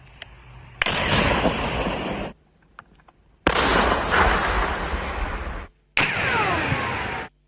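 Three loud explosive blasts from rescuers' controlled detonation of landmines in a field in Dnipropetrovsk region, each a sharp boom trailing into a long rumbling roar with debris noise, separated by brief near-silences.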